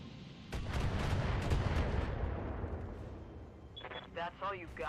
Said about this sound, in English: So that was a heavy mech that fired at me with long-range missiles.